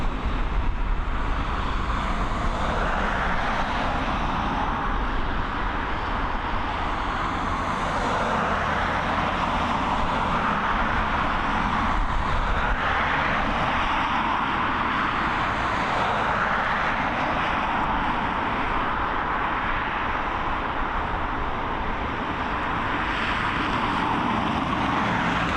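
A Malta Air airliner, a Ryanair subsidiary, departing Dublin Airport: a loud, sustained jet engine roar that holds steady throughout with no talk.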